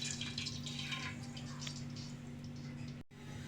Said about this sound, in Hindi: कढ़ाई में थोड़ा सा हम ऑयल शामिल करेंगे, ज़्यादा नहीं डालिएगा, थोड़ा सा ही। और उसके बाद ऑयल में थोड़ा सा हम पानी शामिल करेंगे